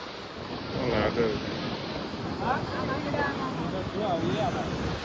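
Sea waves breaking on the beach at Dwarka, a continuous surf wash with wind buffeting the microphone and people talking over it.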